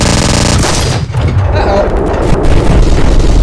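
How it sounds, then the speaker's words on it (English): A handheld Gustav cannon in Garry's Mod fires a loud, booming blast that rolls straight into a sustained, rumbling explosion with crackling debris. A voice speaks briefly over the onset. "Let's blow the rest of it up."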